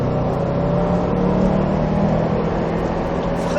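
Subaru WRX STI engine accelerating on a track during a driving course, a loud steady in-cabin drone with a sustained growl that holds level throughout.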